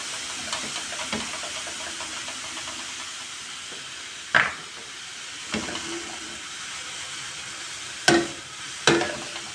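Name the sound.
leeks sautéing in a pan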